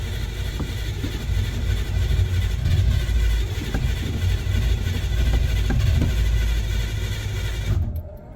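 A 1964 Chevrolet Bel Air V8 runs rough and lumpy at close range, rumbling with uneven surges while a blower motor whirs constantly, then cuts off abruptly near the end.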